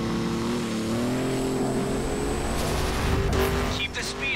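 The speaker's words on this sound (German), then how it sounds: "Ich soll jetzt mit einem Ford GT fahren." Ford GT engine revving in the racing game The Crew, a steady loud drone that climbs in pitch through the gears, with a brief shifting surge and hiss toward the end, running continuously throughout.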